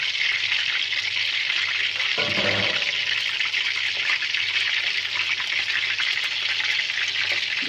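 Beef kofta frying in a pan, a steady close sizzle that runs unbroken the whole way through, with a brief lower bubbling burst partway in and no voices.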